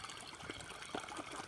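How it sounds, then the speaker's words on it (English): Water tipped from a bucket into a channel for a toy boat race, a close, steady gushing splash with small burbling surges. "It's being bucketed with water."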